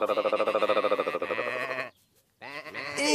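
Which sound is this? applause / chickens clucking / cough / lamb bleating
lamb bleating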